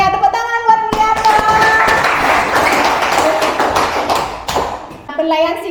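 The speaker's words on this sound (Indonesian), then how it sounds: "Tepuk tangan buat Mulyarto" A classroom of students claps for a classmate, a brisk, fairly close burst of many hands that swells and then tapers off, with a teacher's voice briefly heard before and after.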